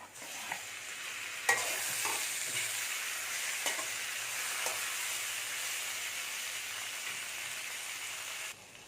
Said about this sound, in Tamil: வெங்காயம் நல்லா வதங்கிடுச்சு. இப்போ நம்ம தக்காளியை சேர்த்துக்கலாம்.